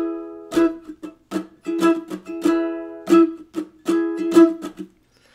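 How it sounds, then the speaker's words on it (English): A ukulele strums quickly in a bouncy, choppy pattern, bright chords alternating with short muted chucks, close and clear with no voices. "For the fast strumming pattern, it kind of sounds like this."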